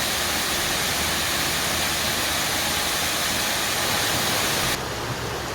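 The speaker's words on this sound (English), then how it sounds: "So I've just found this cascade." Small waterfall cascade on a creek tributary in Lamington National Park, a steady, dense roar of falling water filling the whole clip, close and loud, easing slightly in the final second.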